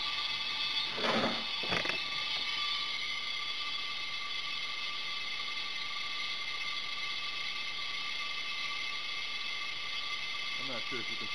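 Compressed shop air hisses steadily through a coolant vacuum tool during a 5.7L Hemi water pump replacement. A couple of brief mechanical clicks come near the start, then a constant, even airy rush carries on.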